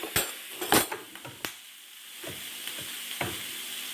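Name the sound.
chopped tomato with taco powder sizzling in a pan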